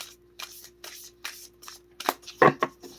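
Oracle card deck shuffled by hand in a series of short riffling bursts, soft at first and then louder and denser toward the end, close and with no voices.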